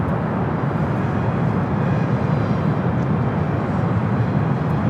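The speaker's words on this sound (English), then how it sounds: "Delta A321 touching down at 24 right" A Delta A321 airliner touches down on runway 24 right at LAX, heard as a loud, steady broadband engine roar and rumble throughout.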